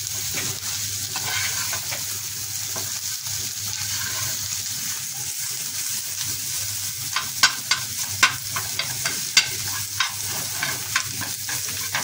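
Radish and egg fry in a pan with a steady sizzle, while a spatula stirs and scrapes with scattered sharp clinks toward the end. No voices.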